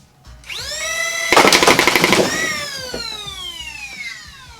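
A 3D-printed full-auto Nerf Rival Jupiter pistol runs on a Fang revamp motor, whose rising electric whine spins up loudly and is joined by a dense burst of rapid firing. The whine then winds down slowly to a fading tail.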